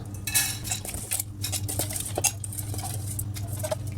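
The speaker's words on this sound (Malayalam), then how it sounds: "അതിനായിട്ട് കുക്കർ എടുത്തിട്ടുണ്ട് അതിലോട്ട് മുതിര ഇട്ട് കൊടുക്കാം" Dry horse gram tipped into a metal pressure cooker, a brief rattling patter of small hard seeds striking the pot with clinks of utensils, close and moderately loud in a quiet kitchen.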